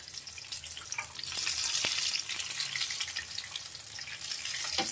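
Tomato bhajiya frying in hot oil on a home gas stove at high flame, a steady bubbling sizzle with crackling spits, fairly close and continuous, with no talk.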